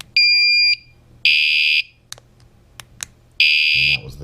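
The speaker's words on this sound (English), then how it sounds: "And now it's like a high-pitched beep." A WSDCAM bike alarm horn plays its high-pitched beep ringtone: three loud, steady piercing beeps, each about half a second long, with short gaps and light clicking in between.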